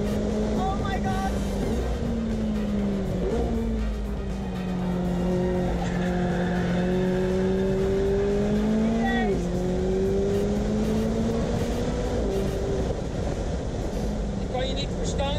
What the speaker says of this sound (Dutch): We gaan even proberen hard te rijden.